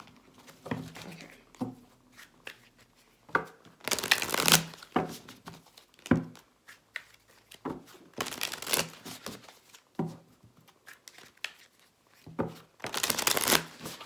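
Tarot cards are shuffled in three brisk riffling bursts, with quieter card handling and tapping in between, close up.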